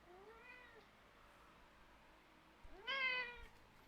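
A house cat whines twice near a cat tower in a hallway, a short drawn-out meow first and then a louder, longer, wavering cry after a quiet pause, heard close in a still room.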